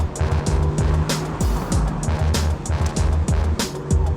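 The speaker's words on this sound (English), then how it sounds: "It still has to be one of the best turbocharged V8s around." Mercedes-AMG GT C Roadster with a turbocharged V8, heard from the open-top cabin: a deep, loud engine drone broken by repeated sharp bursts and crackles as it revs and shifts.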